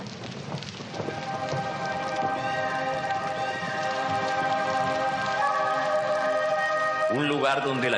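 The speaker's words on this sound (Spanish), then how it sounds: "Un lugar donde la lluvia, lejos de ser un regalo del cielo, cae indiferente lavando y compactando los suelos" Rain falling on soil, heard as a continuous patter that gradually thickens and grows louder, mixed with sustained tonal sounds and a rising sweep near the end.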